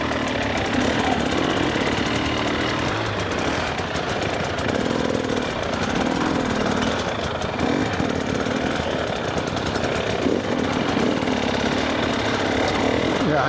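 Two-stroke GasGas EC300 enduro motorcycle riding off-road over soft ground near a water channel, its engine a loud, close, continuous rasping drone that holds steady for the whole stretch.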